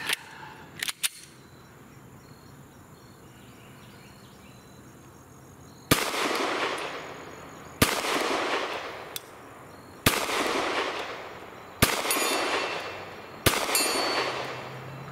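A Glock 19 pistol fires five sharp, loud shots outdoors, spaced roughly two seconds apart, each followed by a ringing echo that fades, after a few quiet handling clicks.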